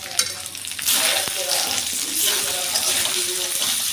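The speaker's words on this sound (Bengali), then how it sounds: "আদা দিয়ে একটু ভেজে নিলাম" Ginger frying in a pan with turmeric and chili powder just added, a steady broadband sizzle close by that swells after a soft clatter and carries on evenly.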